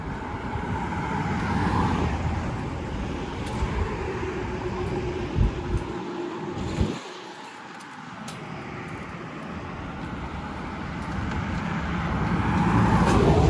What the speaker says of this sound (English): on the other hand, you sit out on your deck or whatever, you've got all this traffic noise